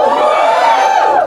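A brief, loud burst of audience cheering and whooping at a stand-up comedy show, a dense crowd roar lasting about a second.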